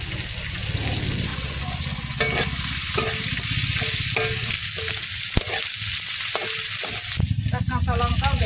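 Chopped onion sizzles loudly in a pan with garlic, dried chili and whole spices, a steady close frying hiss under repeated stirring scrapes.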